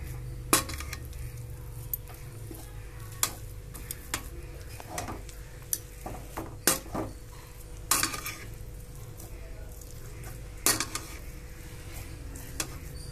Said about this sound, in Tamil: மாவு அடுப்பில் வச்சு கிண்டிக்கணும்